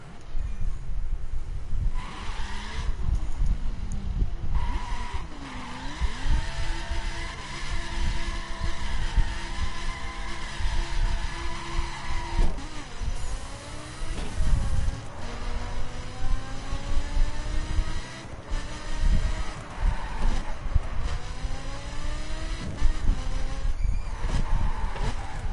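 Lamborghini Huracan engine in a racing video game, a steady loud drone with rising and falling revs and gear-change sweeps running throughout without pause.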